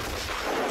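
Russian 2S5 self-propelled artillery gun firing shells on a battlefield, a loud, dense blast of broadband noise with heavy low-end rumble filling the short moment, no speech.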